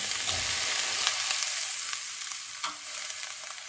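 Potatoes and quince frying in a pan with a steady bright sizzle throughout, while a few soft scrapes of a spoon stirring them break through now and then; no voices.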